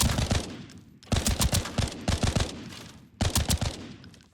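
Semi-automatic rifle fire in Arena Breakout Infinite comes in three clusters of rapid, sharp shots, each cluster a string of evenly spaced loud cracks separated by short pauses, close and with no talk.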